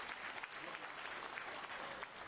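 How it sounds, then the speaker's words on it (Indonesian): Audience applause at a Jakarta hotel convention-centre event, a steady, moderately faint patter of many hands clapping continuously throughout, with no speech over it. "Berikan tepukan yang gemuruh"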